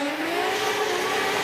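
A Formula Drift Japan race car, Naoki Nakamura's 999 in a drift battle, howls at high revs with a steady loud engine tone and rasping exhaust, tire noise mixed in, up close and with no one talking.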